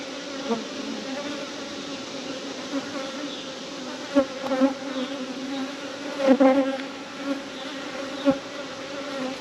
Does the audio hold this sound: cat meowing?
no